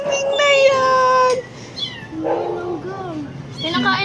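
A rescued cat meows repeatedly and loudly indoors at a Filipino home, long tonal cries with shorter mews between them, while people nearby talk.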